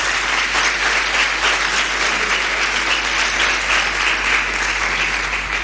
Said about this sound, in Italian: io gli farei un applauso